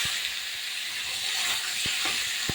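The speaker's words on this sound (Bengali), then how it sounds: "সিদ্ধ করা আলু এবং এঁচড় এই তেলে নেড়ে চেড়ে" Boiled potato and raw jackfruit stirred in hot oil for a Bengali curry with cumin and chili paste; a steady hissing sizzle throughout, broken by a few brief knocks of the spoon against the pan.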